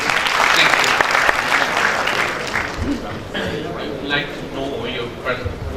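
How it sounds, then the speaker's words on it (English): Loud audience applause with many hands clapping at once, dense and steady at first, then thinning out a little toward the end. "Give them a clap."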